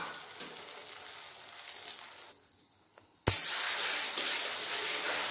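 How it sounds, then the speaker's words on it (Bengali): Egg frying in hot mustard oil in a kadai: a low background hiss dips almost quiet, then a sharp crackle bursts into a loud, sustained sizzle that stays close and steady to the end. "এবার ডিমটা ভেজে নেব।"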